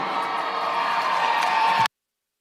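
An audience at a college volleyball event for Haverford College fills the space with steady, loud applause and cheering that cuts off abruptly near the end.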